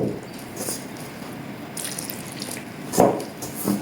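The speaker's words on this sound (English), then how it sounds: "So I'm going to do the 2nd cup of water." Water pours and splashes in brief bursts into a bowl of flour, with a soft drip and a louder gush near the end.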